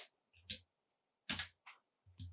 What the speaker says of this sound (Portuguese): agora eu vou apertar Ctrl D e ele vai desfazer a minha seleção